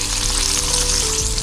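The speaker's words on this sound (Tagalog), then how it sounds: "Prituin lang muna natin ito." Fish frying in hot cooking oil, a steady close sizzle and crackle filling the whole short stretch with no voices.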